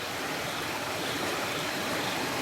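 A river rushes in a steady, loud, unbroken wash of flowing water, close by and with no voices over it.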